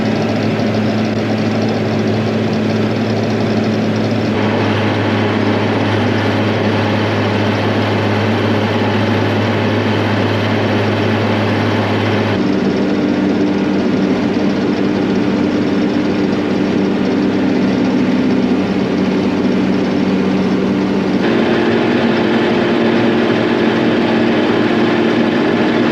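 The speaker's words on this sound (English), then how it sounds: "I just feel like I have to because this tractor's a bit louder." A tractor engine runs steadily and loudly close by for the whole stretch, a constant heavy drone whose pitch shifts a few times as the throttle changes, with no talk over it.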